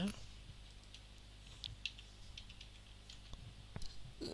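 Keys tapped on a computer keyboard while chatting in the game Point Blank, a short run of faint, scattered clicks over a quiet room background.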